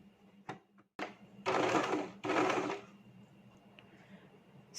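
A sewing machine stitches a mask made from a cloth bag in short bursts, a quick tap or two, then two longer whirring runs close by, followed by quiet.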